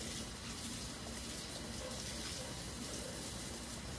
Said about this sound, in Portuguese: Aproveitar para molhar a barléria aqui, molhar as plantas desse lado.